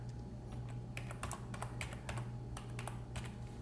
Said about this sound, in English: Pardon my typing, I can't type and talk at the same time.